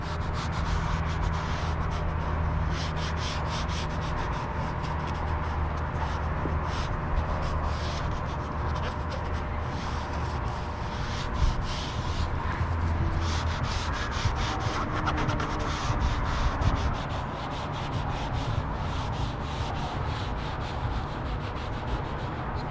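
A foam applicator rubs ceramic coating onto engine bay plastic, producing a continuous close, dry rubbing and swishing with rapid back-and-forth strokes throughout, no talk.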